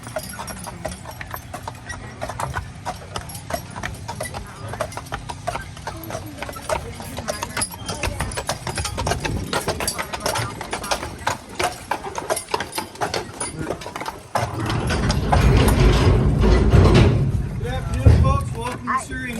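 Steady clip-clop of horse hooves on pavement, rhythmic and fairly close, with a brief louder rumble of passing traffic near the end.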